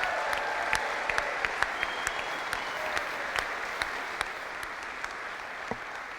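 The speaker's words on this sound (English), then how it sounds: "Let's give them a big round of applause." Audience applause at the MLS4 TheLou press conference, a steady wash of many hands clapping at moderate distance with a few sharper individual claps standing out, continuing evenly without speech.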